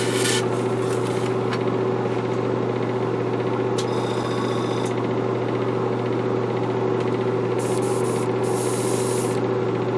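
An airbrush sprays coats of Tamiya X2 gloss paint at about 20 PSI onto a model Flying Sub, a steady close hiss with a constant compressor hum beneath and a few brief clicks.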